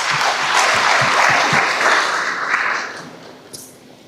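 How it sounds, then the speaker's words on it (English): A crowd at a graduation ceremony claps for the graduates, a loud burst of applause that swells and then tapers off over a few seconds, with a few scattered claps lingering at the end. "a huge round of applause to all of you for the hard work and the diligence"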